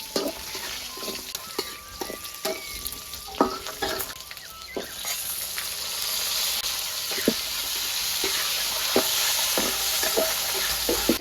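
Spice paste for vegetable lodeh sizzles steadily in a pan, a continuous frying hiss with occasional stirring scrapes and clicks, fairly close and without talk.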